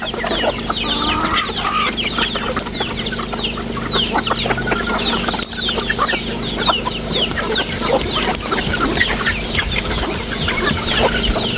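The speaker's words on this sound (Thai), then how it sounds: "ไก่กินบักดีพี่น้อง" A flock of chickens clucks busily while feeding outdoors, with many overlapping close and mid-distance clucks and chirps and the odd faint crow throughout, with no talking.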